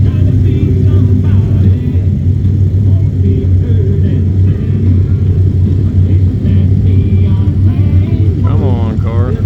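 An 800 hp Dodge Challenger SRT Hellcat Redeye drives a half-mile race with a loud, steady low engine roar and rumble, close and sustained, with faint higher whining near the end.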